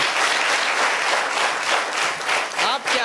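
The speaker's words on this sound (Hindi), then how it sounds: "ताली बजाएं सब लोग इनके लिए, जोरदार ताली" Audience at an event with blind children at Prerna School in Hirapur breaks into dense, steady applause, loud and close throughout with a faint voice near the end.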